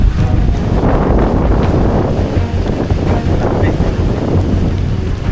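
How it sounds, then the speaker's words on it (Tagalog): Strong gusting wind buffets the microphone with a heavy roaring rush, rain mixed in, loud and continuous with surging swells, at a beach campsite. "medyo lumalakas na rin ulit yung ulan, no? At saka yung hangin."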